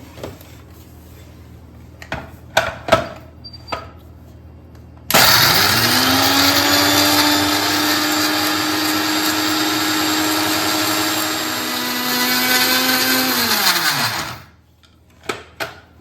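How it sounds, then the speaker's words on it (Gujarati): A mixer grinder grinds biscuits for a chocolate cake, its motor kicking in abruptly into a loud, steady whine that lasts about nine seconds before winding down, with a few sharp handling clicks before and after. "આપણે આને મિક્સરમાં પીસી લઈશું."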